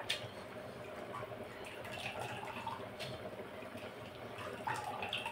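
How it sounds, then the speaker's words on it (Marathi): Water drains steadily from soaked urad dal in a kitchen pot, a soft continuous trickle with faint splashes throughout. "मी बघा असं पाणी निथळून घेत आहे।"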